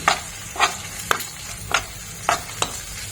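Spice paste of onion, ginger and green chilli with cumin frying in a pan for a small-fish curry, with steady sizzle broken by five sharp scraping stirs at even intervals, close and moderately loud.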